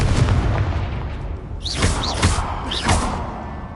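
Confringo spell blasts in Hogwarts Legacy, a rumbling explosion followed by several sharp whooshing bursts in quick succession, loud and close.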